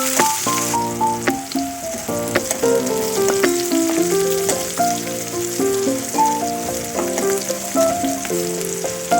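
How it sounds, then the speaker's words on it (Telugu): Green chillies fry in hot oil for egg rice, giving a steady, close sizzle that runs the whole time beneath fairly loud background music. "పచ్చిమిర్చి వేసుకొని ఫ్రై చేయండి."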